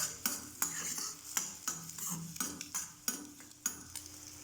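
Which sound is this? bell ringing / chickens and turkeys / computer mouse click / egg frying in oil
egg frying in oil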